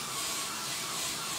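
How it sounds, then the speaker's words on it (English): Avocado oil cooking spray hissing steadily from the can in one brief, continuous burst, close and fairly quiet. "So I'm spraying pretty heavily."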